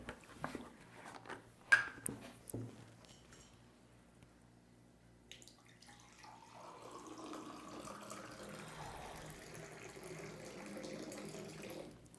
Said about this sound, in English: I'm gonna serve you some water, my friend.